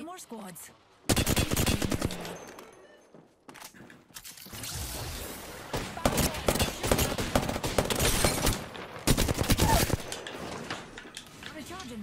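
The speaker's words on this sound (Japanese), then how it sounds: "これベスパの空爆だな" Airstrike in Apex Legends, with repeated loud bursts of explosive impacts and rapid gunfire-like blasts that stop and start across the stretch, close and intense, while someone talks now and then.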